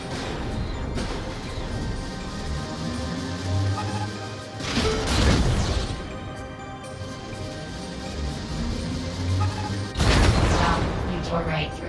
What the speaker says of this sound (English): Now, fire at your target.